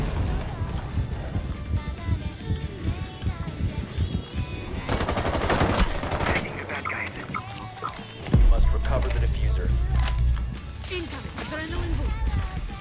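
Video game gunfire, rapid machine-gun bursts and single shots rattling over a busy mix, with a deep booming passage partway through and a voice talking underneath.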